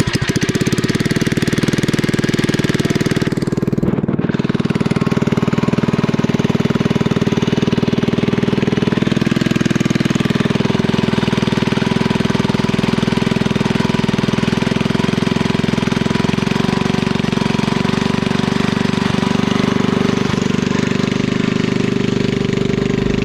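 A small engine on a home-built REO Trikeabout runs loud and steady at a constant rumbling pitch, straining under load, with a brief dip near the start.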